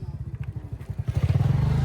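A small 1.1-litre engine idling unevenly with a rapid, chugging low pulse that builds louder and steadier toward the end, close up with no talk.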